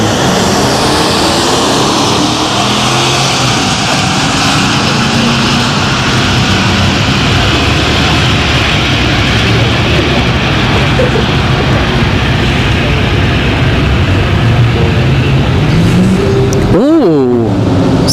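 Silverados line up against a GMC Envoy at a Friday night drag race at Orlando Speed World, a loud continuous engine roar rising and sweeping past with a sharp pass-by near the end, under crowd ambience.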